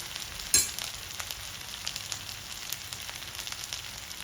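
Cumin seeds sizzle in hot oil with a steady, close crackling hiss and a sharp burst of spatter as they hit the pan, then an even frying texture continues to the end.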